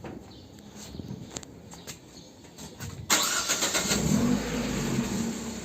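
A car engine, worked on during a DIY brake disc resurfacing job, idles quietly and then revs up abruptly as the clutch is released, holding a louder steady roar afterward with no talk.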